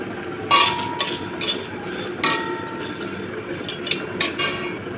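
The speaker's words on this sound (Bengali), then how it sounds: "শুকনো কড়াইতে কিছু ভাজা মশলা ভেজে নেব, জিরে, ধনে আর শুকনো লঙ্কা সবগুলো একসাথে কড়াইতে দিয়ে দেবো" Cumin, coriander and dried chillies dry roast in a kadai, marked by a handful of sharp metallic scrapes and clinks from stirring, spaced irregularly over a quiet background.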